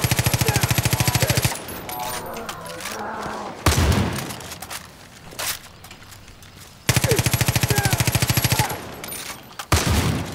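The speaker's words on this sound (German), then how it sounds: "Ja, ja, schieß ruhig den Baum kaputt." Bursts of rapid automatic gunfire from the video game Far Cry New Dawn, two long rattling volleys with heavy impact thumps and scattered shots between them, loud and close.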